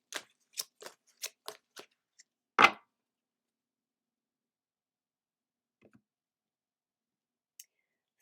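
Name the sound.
shuffling and pulling a card from the Fairy Oracle deck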